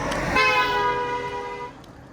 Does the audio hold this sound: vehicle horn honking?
yes